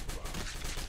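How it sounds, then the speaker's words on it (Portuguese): Gunfire in the online shooter game Slay.one, a rapid burst of faint, crackling shots packed closely together with no gaps. "Eu acabei sem querer dando um tiro"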